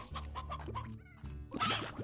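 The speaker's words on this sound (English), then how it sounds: "There's chickens." Hens clucking in the Slime Rancher video game, several short clucks in a burst near the start and a louder flurry of clucking toward the end, fairly close and clear with no talking.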